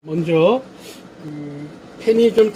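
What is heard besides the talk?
No distinct noise like a dog, phone or traffic.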